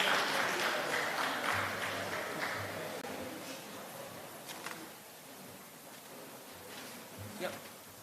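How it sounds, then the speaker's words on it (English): Audience applause for panelists at a UNDP energy conference morning session, a steady broad clatter of clapping that slowly fades over several seconds. "Please a round of applause for our panelists."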